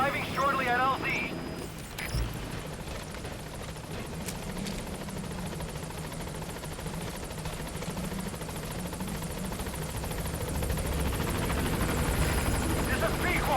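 The Pequod support helicopter from Metal Gear Solid V flies in toward a landing zone, its steady rotor drone swelling louder as it nears, with a voice speaking over the noise.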